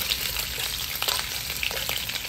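Garlic and onion sautéing in a pan for Kapampangan pork bistek, a dense continuous sizzle with scattered spatula scrapes and ticks, close up and without talk.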